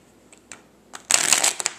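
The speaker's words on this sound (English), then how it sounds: "The cards shuffle." A deck of playing cards is shuffled, a few soft flicks followed by a quick, loud riffling burst and a couple of final taps, close by and alone.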